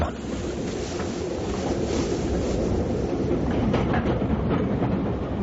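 A passenger train runs on its rails in a continuous rumbling roll, heard from inside the carriage with faint rhythmic clatter and no talking.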